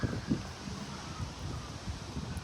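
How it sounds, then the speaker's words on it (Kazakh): Strong wind blows outdoors as the weather turns stormy, with a steady, soft rushing roar and rustle and a few low gusts. "Жел қатты болып жатыр."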